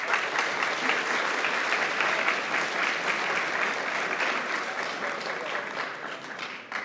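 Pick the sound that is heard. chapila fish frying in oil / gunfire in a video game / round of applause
round of applause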